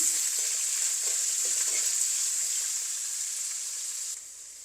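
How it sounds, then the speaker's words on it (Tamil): Chopped onion and green chillies sautéing in a pan for tomato rice give a steady, bright sizzle with a few soft stirring scrapes, close and continuous before quieting slightly near the end. "இதெல்லாம் நல்லா வதங்கட்டும்"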